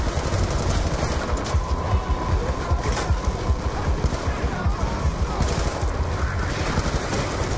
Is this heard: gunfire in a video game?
yes